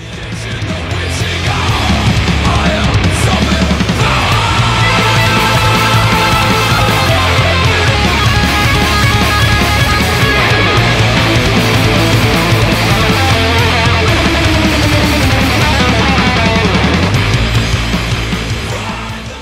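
Loud, dense heavy rock music with distorted guitars and pounding drums, sustained at full volume throughout.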